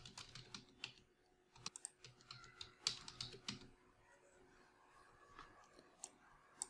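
A password is typed on a computer keyboard while installing Ubuntu 24.04 in VirtualBox: faint, close, irregular key clicks and taps in quick bursts with short pauses, no voices.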